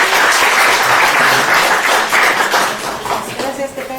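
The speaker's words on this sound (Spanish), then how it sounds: "Muy bien, pues un aplauso." A university lecture audience breaks into warm applause, dense clapping at full strength that gradually loosens and tapers as the burst nears its end.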